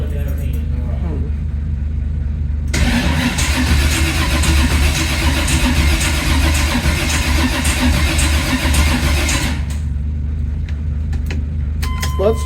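A 1980 Camaro cranks on its first start attempt, the starter churning in a long, steady, loud grinding run of about seven seconds without catching, with voices talking before and after.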